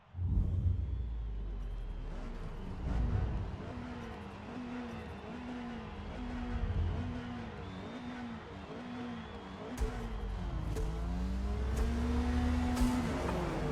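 A race car in Forza Motorsport revs hard at the start of a race, its engine climbing and dropping as it shifts through repeated gear changes, with tire noise and other cars around it.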